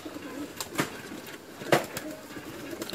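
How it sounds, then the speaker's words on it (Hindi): A favourite pigeon from a mixed-breed collection gives two soft coos a second apart, with faint rustling and low background noise between them. "एक मेरा पसंदीदा कबूतर आप लोगों को दिखाता हूँ"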